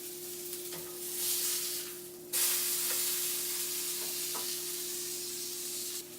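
A blue cheese stuffed burger fries in a pan on a stovetop, with a close, continuous hiss and sizzle that swells, drops off briefly, then returns louder, with faint pops and clicks.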